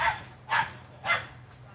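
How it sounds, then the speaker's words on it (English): A dog barks three times in a quick, evenly spaced series, each bark short and sharp, heard at moderate distance over low background rumble with no talk. "And there's a barking dog."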